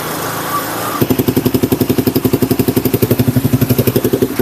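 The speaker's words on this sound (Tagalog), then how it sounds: "Ngayon, i-warm up natin yung motor." Motorcycle engine started and warming up before an oil change and engine flush; after a quiet second it fires into a close, loud, rapid pulsing idle that stays steady to the end.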